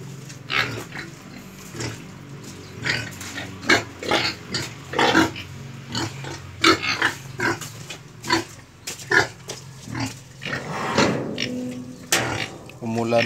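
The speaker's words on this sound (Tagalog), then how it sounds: "baboy dito sa likod." Pigs on a farm, housed in pens behind the house after a night of rain, grunting and oinking in repeated short bursts close by, with a person talking over them.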